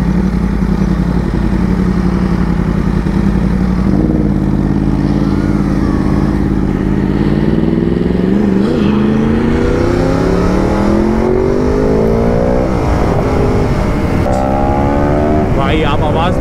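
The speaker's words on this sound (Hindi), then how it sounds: "R1 इतना आगे चल रही है उसके बाद भी ऐसी आवाज़ आ रही है ना सुपर डुपर लाउड।" A Yamaha YZF R1 motorcycle engine revs loudly and continuously on a road ride, its pitch climbing and falling through rising sweeps as it accelerates, with a rider talking over it.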